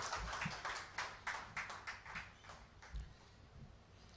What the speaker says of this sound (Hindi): अंकित सर के लिए जोरदार तालियां